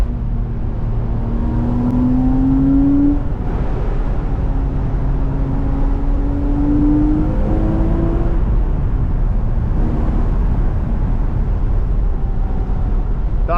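A Porsche Boxster's engine droning steadily from inside the cabin, rising in pitch as it pulls through a gear, dropping at a shift and climbing again, with continuous road rumble beneath.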